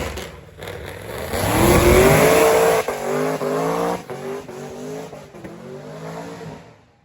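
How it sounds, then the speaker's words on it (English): Cars doing burnouts at a drag strip during Sick Week at Gainesville, a loud engine rising into a sustained high-revving roar with tire squeal, then easing into repeated revving pulses, close and dominant throughout. "They have been already getting some burnouts in."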